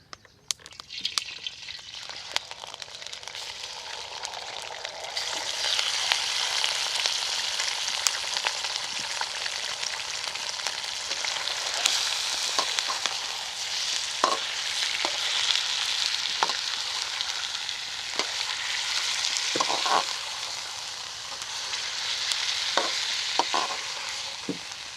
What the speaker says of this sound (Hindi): अब इसी ऑयल में गोश्त डाल लेंगे।